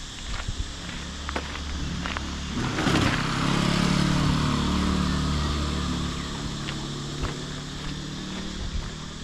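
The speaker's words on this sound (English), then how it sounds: "We are back onto the main road, as you can hear and see the traffic going by." Vehicles pass along a main road on Koh Samui, a steady traffic rumble swelling as one passes close midway, then easing back to a constant background drone.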